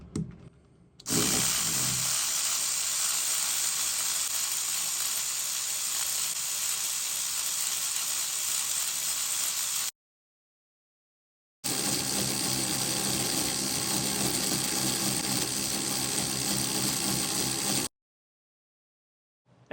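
Hyper Tough 4-volt 1/4-inch and Ryobi USB 1/4-inch electric ratchets spin freely in two loud, steady whirring runs with a brief silent gap between them, no voices over the motor noise.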